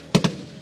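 Live weapons fire at a military reservist training range in Abkhazia, heard as two quick, sharp reports in close succession, each with a booming low thump, followed by a brief rumbling tail.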